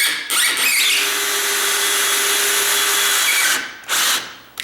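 A power drill drives a screw into a tall, sagging door, whirring loudly and steadily for over three seconds, pausing briefly, then giving one more short burst up close.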